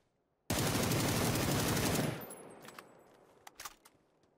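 A long burst of automatic gunfire in PUBG, loud and close, runs unbroken for about a second and a half, then fades into scattered clicks and clinks.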